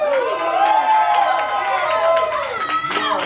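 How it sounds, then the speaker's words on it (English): A loud, lively crowd of party-bus guests cheers and shouts close by, with high children's voices and scattered clapping running continuously through the whole stretch. "Surprisingly loud and lively crowd."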